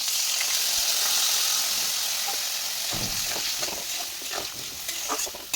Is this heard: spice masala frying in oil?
yes